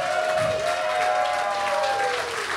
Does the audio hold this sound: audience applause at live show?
yes